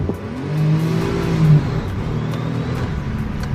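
A Daihatsu Naked Turbo 4WD kei car drives at modest speed, its engine humming steadily with a brief rise in revs, heard from inside the cabin.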